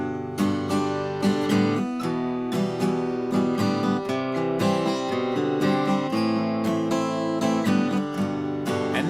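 Acoustic guitar strumming the verse chord progression of a song, a steady rhythmic pattern of sustained chords played up close without any voice.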